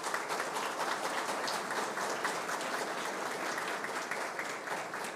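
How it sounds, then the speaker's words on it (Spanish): An audience at a formal political gathering applauds an honoree, a dense, steady wash of clapping that stays loud and even from start to finish with no voices over it. "Un aplauso para ti."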